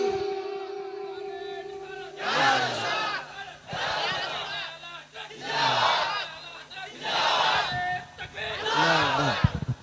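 A large gathering at a Muslim religious sermon shouts a loud takbir (Allahu Akbar) in unison, with several surging crowd chant bursts separated by brief pauses and a voice leading between them.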